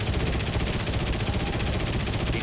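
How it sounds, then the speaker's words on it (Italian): Aircraft cannons fire in the War Thunder game aboard a Pe-8 bomber, a loud continuous rapid burst of gunfire filling the whole short stretch without pause. "Vai adesso con tutti i cannoni."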